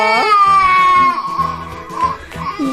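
Baby crying, a loud close wail that breaks into shorter sobbing bursts, with no talk over it.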